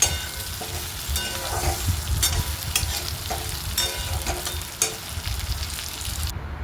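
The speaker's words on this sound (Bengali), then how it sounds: "তারপর এর মধ্যে দিয়ে দিলাম ভেজে রাখা পটলগুলো, দিয়ে আবার ভালো করে নাড়াচাড়া করে নেব।" A spatula stirs fried pointed gourd with prawns in a hot pan, scraping and clattering at an uneven rhythm over a soft background sizzle, close and moderately loud, with no voices.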